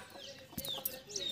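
Chickens cluck and chirp in short, bright calls around a village yard, a few brief bursts over quiet background noise.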